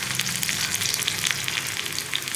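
Sliced onion rounds sizzle steadily in hot oil with popped mustard seeds, a dense continuous crackle close by with no voices, the frying staying even throughout.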